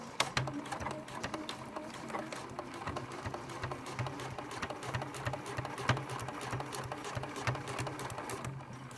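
A sewing machine stitches a zip pouch with a fast, steady needle rhythm. It runs close and continuous with no talking.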